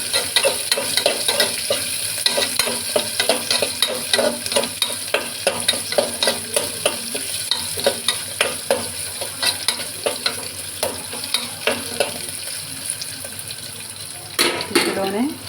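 Chopped onions fry with a constant sizzle while a spoon stirs them in quick, rhythmic scrapes against the pan, close and busy throughout, with a brief louder scrape near the end.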